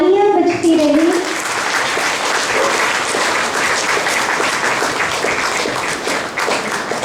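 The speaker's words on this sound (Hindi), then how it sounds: "सबकी तालियां बजती रही" A crowd at a Diwali gathering applauds in a continuous, dense wash of clapping after a brief voice at the start, holding steady and fairly loud throughout.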